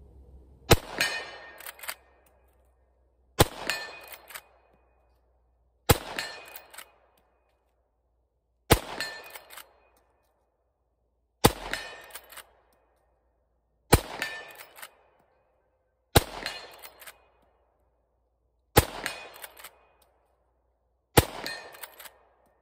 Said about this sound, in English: Let's shoot this thing and see if we can hit that steel.